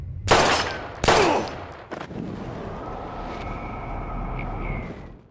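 Gunfire in the video game Life is Strange, Episode 5 Polarized: two loud, close shots with sharp cracks and ringing tails about a second apart, a quieter third bang, then a low rumbling ambience with a thin sustained tone.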